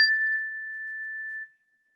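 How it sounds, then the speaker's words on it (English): A small mindfulness bell is struck once, giving a clear, pure ringing tone that sustains evenly for about a second and a half before cutting off into silence. "Something as similar as a little bell like this."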